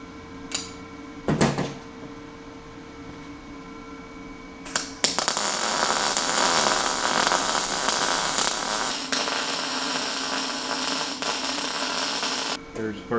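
Lincoln 210mp MIG welder laying a finishing pass after two tack welds, a loud steady crackling hiss starting a few seconds in and running for about eight seconds before cutting off, preceded by a couple of short bursts.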